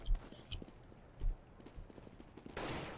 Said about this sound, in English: I hear footsteps on all over A.